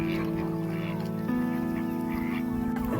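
Ducks quack in a busy, continuous chorus on a village farm over a steady droning hum, fairly close and moderately loud.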